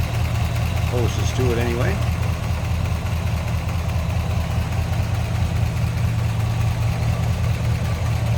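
A 1970 Chevrolet K10 pickup's 350 V8 idles smoothly and steadily, a constant low rumble at close range, while someone speaks briefly over it.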